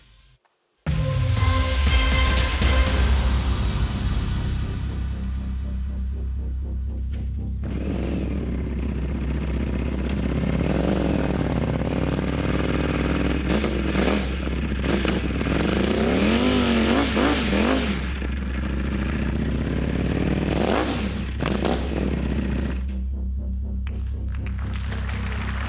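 Ducati Panigale V4 motorcycle engine, 226 hp, starting up and revving loudly and continuously close by, with throbbing idle and repeated rising revs, no talk.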